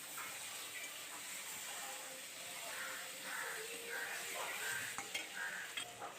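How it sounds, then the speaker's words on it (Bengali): Fried potato and cauliflower are stirred into spice masala in a pan, giving a steady close sizzle with soft scraping strokes of the spoon, continuous and fairly quiet. "আবার আমি মশলাটার সাথে মিশিয়ে নেব নাড়াচাড়া দিয়ে।"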